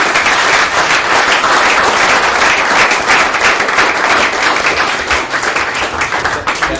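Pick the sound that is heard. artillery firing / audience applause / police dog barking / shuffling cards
audience applause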